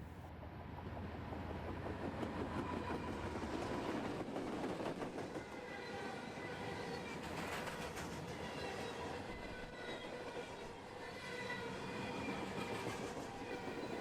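A Norfolk Southern freight train rolls past continuously in Kentucky, with rumbling wheels, rhythmic clacking over rail joints and faint metallic squeals, at a moderate distance.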